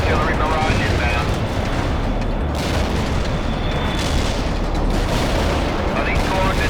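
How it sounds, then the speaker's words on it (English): Heavy artillery barrage in the real-time strategy game World in Conflict, a dense, unbroken wall of booming impacts and rumble, loud and sustained throughout, with voices talking over it. "Heavy artillery barrage inbound."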